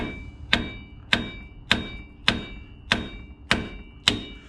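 Hammer tapping the side of a Ford F150 steering knuckle to pop a ball joint loose: seven sharp metallic knocks at an even pace, each ringing briefly, close and clear with no talking.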